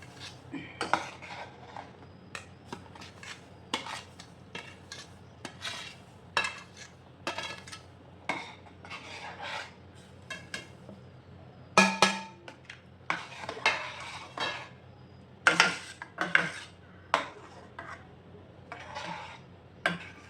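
A spoon stirs semolina into boiling water in a pan over a medium flame while upma is being cooked. Irregular scraping and clinking strokes carry on steadily at close range with no speech.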